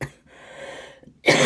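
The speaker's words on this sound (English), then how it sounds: "I'm sorry for the coughing" A woman's cough bursts out at the end, loud and close, after a quieter stretch of breathy throat sound.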